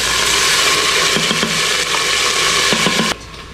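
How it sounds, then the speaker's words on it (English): Garlic, ginger and jalapeno sizzle loudly in hot oil in an Instant Pot on saute, a steady close frying hiss that cuts off abruptly near the end. "We're going to saute that for 1 minute."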